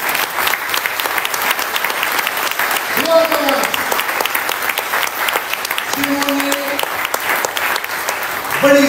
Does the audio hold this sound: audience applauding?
yes